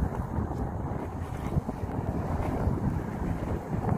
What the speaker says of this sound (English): There's a little bit of wind